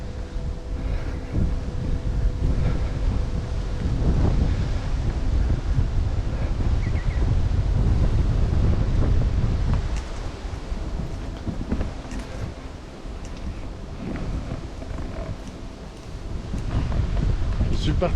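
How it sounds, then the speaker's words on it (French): Wind buffets a microphone outdoors on a route around Mazères, producing a continuous low rumble that swells and eases throughout with no clear speech. "Désolé pour le vent."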